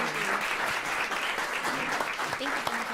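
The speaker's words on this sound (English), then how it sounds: "Could we get a round of applause for our amazing panelists?" A seated audience gives steady, continuous applause for panelists at an event on New York City minority-owned businesses, many hands blending into an even roar with faint voices murmuring underneath.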